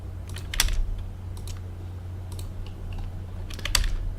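Keys clatter on a computer keyboard while a user works in AutoCAD, a few quick separate taps and short bursts of typing, close by and moderately loud over a steady low hum.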